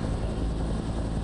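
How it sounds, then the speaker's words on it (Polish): Steady, muffled engine hum inside a helicopter cabin in the game F.E.A.R., continuous and even over the short stretch with a faint mechanical rattle. "Jak cicho chodzi helikopter z wnętrza."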